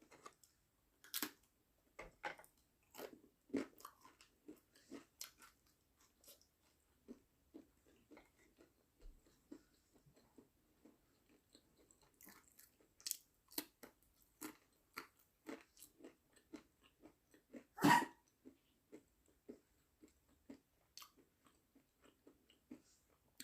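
Crunchy bites and chewing of food eaten with fermented soybean chili paste, close up, with irregular crisp chomps and one loud crunch, no talking.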